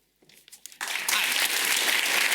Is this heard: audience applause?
yes